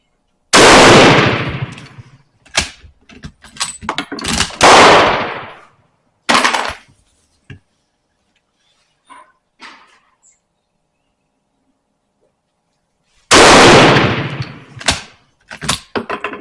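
Mauser rifle shots outdoors: several sharp, loud cracks in the first few seconds with bolt clacks between, a long quiet stretch, then two more shots near the end.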